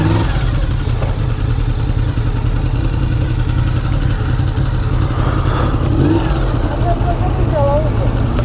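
Honda VFR motorcycle engine running steadily at low revs while parking, a loud continuous rumble close by, with voices talking over it.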